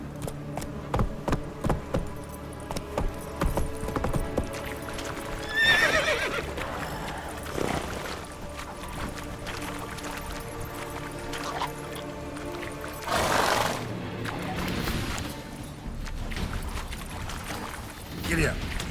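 Horse in The Witcher 3 galloping with steady rapid hoofbeats throughout, with loud neighs breaking out twice, near and prominent, alongside short shouted voice calls.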